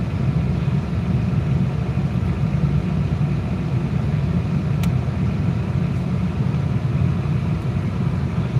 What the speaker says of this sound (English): I got the air on high. You can probably hear the whoosh.